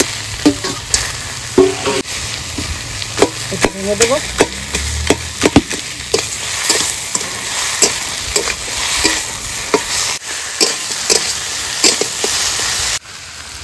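Ash gourd and two fresh fish heads from a wetland fry in a pan, with loud sizzling and repeated scraping stirs and clanks of the spatula close by, while a person speaks briefly over the cooking.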